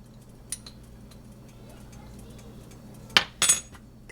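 A metal teaspoon gives two quick, close clinks as half a teaspoon of paprika is measured into a pot of deer chili, over a low steady kitchen hum.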